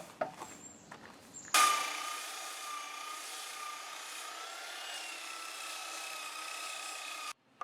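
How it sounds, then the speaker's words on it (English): Power sander working across the warped, bowed surface of a wooden garden bench, a steady close rasping whir that starts abruptly after a few soft knocks and runs evenly for several seconds before cutting off. "Now as I sand, I'll know when I'm hitting this spot"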